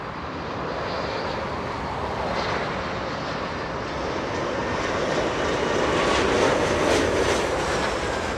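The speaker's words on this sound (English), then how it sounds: "Waiting for the A340 to lift off." An Airbus A340 on its takeoff roll at Los Angeles International Airport, a dense, steady engine roar that builds gradually louder toward the end, heard alone without voices.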